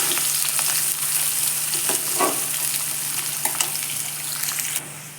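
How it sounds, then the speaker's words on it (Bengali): Onions fry in hot oil with whole cumin and chili, giving a steady, close, crackling sizzle broken by occasional stirring scrapes, with no voices. "পেঁয়াজটা একটু হালকা লালচে করে ভেজে নিয়ে"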